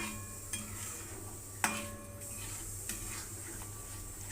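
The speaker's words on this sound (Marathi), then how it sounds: "हेही आपल्याला छान परतून घ्यायचं आहे छान तेल सुटेपर्यंत परतून घ्यायचं आहे" A masala and milk paste is stirred and sautéed in a pan in a home kitchen, heard as faint, sparse clinks of a spoon against the pan over a low, steady background hum.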